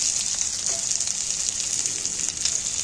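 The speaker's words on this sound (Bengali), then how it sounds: "এইবার আমি পেঁয়াজগুলো তেলের মধ্যে তুলে দিচ্ছি" Sliced onions frying in hot oil in a pan, after split green chillies, giving a steady close hiss of sizzling that is even and continuous throughout, no talking.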